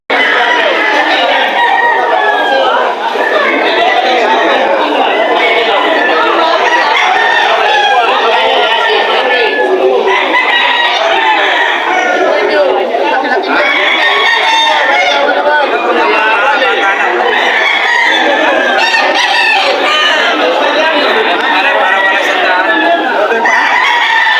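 Roosters crow repeatedly amid a dense, loud chorus of clucking fowl and crowd chatter, continuous throughout.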